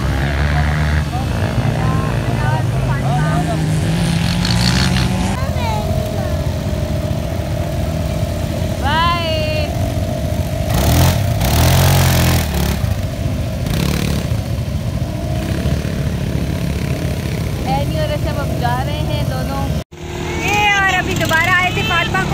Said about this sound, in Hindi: तो सबसे पहले बाइक लेके अली आए हैं और वो अपनी बेटी को दिला रहे हैं एक राउंड